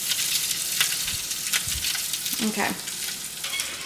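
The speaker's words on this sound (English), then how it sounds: "Sizzling." Bacon sizzles loudly in a frying pan in a holiday rental kitchen, a dense close crackle and spit throughout, with a brief spoken word over it.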